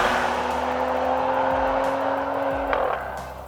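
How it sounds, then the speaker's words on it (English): Mercedes-AMG GLC 43 facelift engine and exhaust pulling hard under acceleration, a loud, sustained, steadily rising drone close by from inside the SUV, with no talking. "the sound from the pipes, well, that's a tune you can listen to all day long"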